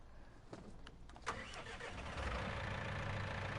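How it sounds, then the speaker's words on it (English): A cultivating tractor's engine starts in Farming Simulator 19, cranking over with a few clicks and a jolt before settling into a steady, rough idle rumble. "this is our cultivating tractor"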